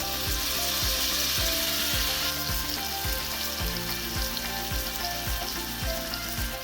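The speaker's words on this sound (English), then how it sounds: "Sauté it over medium-low heat." Food sautés in a pan over medium-low heat, giving a steady close sizzle with rhythmic scraping strokes from stirring.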